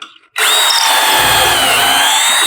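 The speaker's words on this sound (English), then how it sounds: "And let's drill the other side. Down we go." A power drill whirs loudly and steadily after a brief quiet start, grinding as it bores into wood for a couple of seconds.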